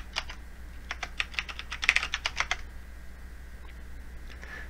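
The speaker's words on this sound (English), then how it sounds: "I'm going to type in his new password" Fingers type a password on a computer keyboard while a new user account is set up on Arch Linux, tapping out a quick, quiet burst of clicks that then fades to near silence.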